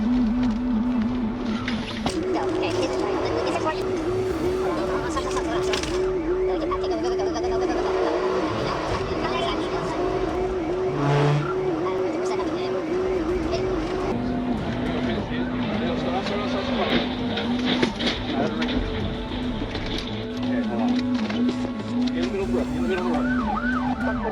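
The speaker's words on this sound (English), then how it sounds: "We're trying to chase this car right now." A car speeds hard during a police chase, engine roaring continuously with a wailing siren rising and falling over the road noise, loud and close throughout.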